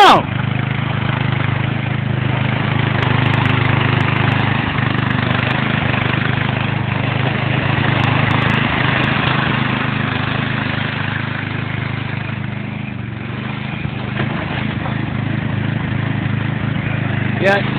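An old Dixon riding lawn mower engine runs loud and close, a steady rumbling drone that holds throughout with slight surges as the mower pops wheelies outdoors, with voices now and then underneath.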